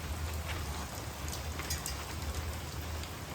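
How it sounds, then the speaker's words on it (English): Steady rain falls outside a tiny house camp, a continuous close wash of drops pattering on surfaces with a low rumble beneath and no voices. "Oh, look, it's raining."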